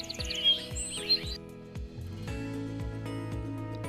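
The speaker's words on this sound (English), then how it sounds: "We'll cover our whole property with the meadow birds to add a peaceful sound to the yard." A meadow-bird ambient track plays in yard design software: scattered bird chirps and calls over a soft, steady tonal backdrop, with repeating low thumps and no talking.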